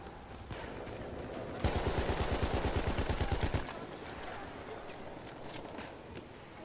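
Battlefield 1 gunfire: a rapid automatic burst of closely spaced shots lasting about two seconds, loud against a quieter background of battlefield ambience, with scattered distant shots before and after.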